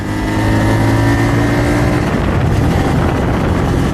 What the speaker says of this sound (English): The first thing everyone noticed riding this bike is what a great sound it has.